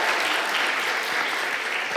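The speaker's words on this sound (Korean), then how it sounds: "맞았으면 그 사람을 위해서 박수 한번 보내주세요" A church audience at a teachers' revival meeting applauds for a correct answer, with dense, sustained clapping filling the whole two seconds at steady loudness.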